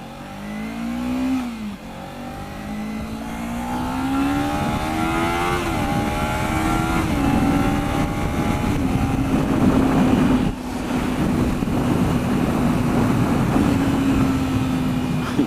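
A Kawasaki Ninja motorcycle with an aftermarket exhaust revs and pulls through the gears, a loud, steady engine drone rising in pitch with brief dips at upshifts, close and continuous.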